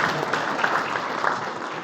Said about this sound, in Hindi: मातृशक्ति के लिए एक बार जोरदार तालियों से स्वागत करते हैं।